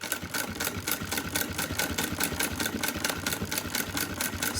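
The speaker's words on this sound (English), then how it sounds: "So we'll get this big piece sewn here, and then we will get this finished up" A sewing machine stitching a big leather piece with a border, running steadily with a fast, even mechanical clatter, close and continuous throughout.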